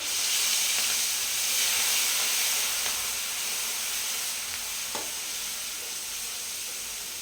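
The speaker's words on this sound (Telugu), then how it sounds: "పచ్చిమిర్చి పేస్ట్ బాగా ఫ్రై కావాలి." A loud, steady sizzle of green chili paste frying in oil in a pan, constant hissing with a couple of faint utensil taps.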